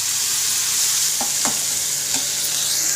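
Peeled garlic and ground onion paste fry in a hot pan, making a loud, even sizzle with a few short scraping stirs in the middle and no speech.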